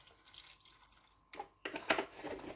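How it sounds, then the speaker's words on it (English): Milk is splashed into mashed potato for a cottage pie, a faint liquid trickle and soft spatter that swells briefly near the end, quiet and close with no talking. "we're going to add a splash of milk"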